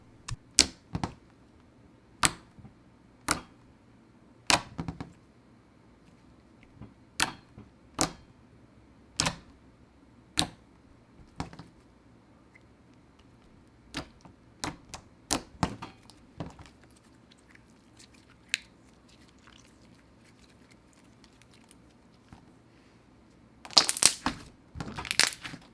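Cheesecake-scented slime being squished, giving a string of sharp, crisp clicks at an irregular steady pace, close and dry, ending in a dense burst of rapid bubble pops.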